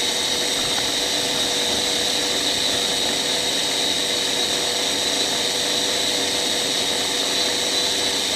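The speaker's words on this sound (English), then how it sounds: "See what kind of number this thing turns on the dyno as the dyno runs away there." An Amrac KM1 electric motor spins up on a dyno, a loud continuous high-pitched whine and whir that holds steady and unbroken the whole time.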